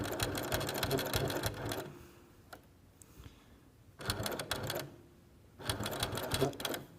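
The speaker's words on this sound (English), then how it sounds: "I'm gonna pull it back in so that I'm not sewing over the pin" Sewing machine stitching fabric for a triangle pencil case, rapid mechanical chatter in three bursts separated by quiet pauses, close and fairly loud.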